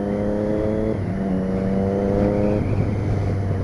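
A motorcycle engine fitted with an SC Project Conic stainless exhaust with carbon tip revs nearby, its pitch stepping up and down in clear tones over a steady rumble, with no talking.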